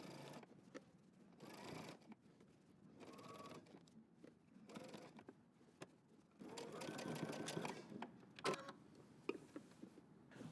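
A sewing machine stitches in the ditch along the collar seam of a denim jacket, running in several bursts of steady whirring. Short pauses and handling noises break up the runs, with a longer, louder stretch near the end.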